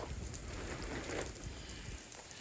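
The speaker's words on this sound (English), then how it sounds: "it's raining pretty good" Steady rain falling outdoors over a concrete pour site covered with plastic sheeting, a continuous broadband patter with low rumble, fairly loud and unbroken throughout.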